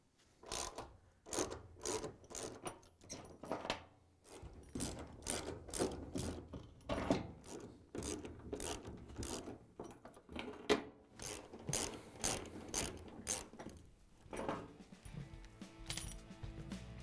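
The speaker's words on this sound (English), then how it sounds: "you can use the ratchet with the 13mm socket to take out all the shipping bolts" A ratchet with a 13mm socket backs shipping bolts out of a GE washer, producing rapid bursts of close metallic clicking separated by short pauses, with a few clanks of metal parts.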